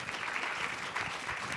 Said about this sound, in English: please give them a round of applause for the discussion